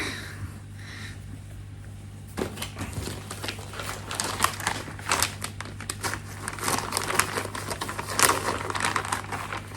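Fabric of a cross-stitch craft project being folded up by hand, a run of soft crinkling and rustling handling noises that pick up partway through and continue close to the microphone, with no talking.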